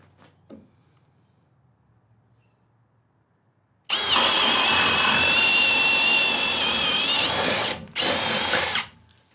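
A Milwaukee Fuel hammer drill bores through wood with a paddle bit of up to an inch, starting with a loud, steady high-pitched whine for about four seconds, a brief drop, then another short burst, close and alone after a quiet start.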